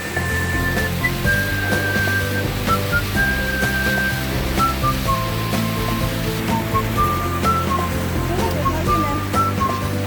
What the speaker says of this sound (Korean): 숲의 깊이와 물소리의 웅장함이 완전히 달라집니다